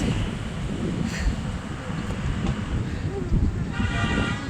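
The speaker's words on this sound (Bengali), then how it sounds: "ট্রেনের আওয়াজটা বেশ জোরে আসছে" Darjeeling toy train at Batasia Loop on a cold, foggy day, heard as a steady, loud rumble buried in heavy wind buffeting, with a faint higher squeal near the end.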